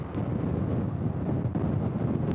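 Steady, blustery wind rushes and buffets loudly against a motorcycle fairing on the Turkish Aegean coast, a continuous roar with no voices.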